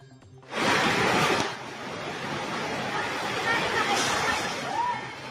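Heavy rain pours with strong wind gusts during a thunderstorm in Polomolok, South Cotabato, a dense, steady roar that swells sharply at the start and holds loud throughout.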